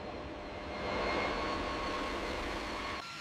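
B-52 bomber jet engines spool up to full takeoff power on a smoky tarmac, a steady broad roar swelling midway and holding, moderately distant, with no voices.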